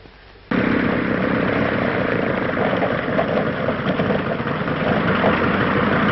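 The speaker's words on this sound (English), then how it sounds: "Get the number of that plane." A steady, loud droning engine with a throbbing propeller hum, starting abruptly and holding constant throughout.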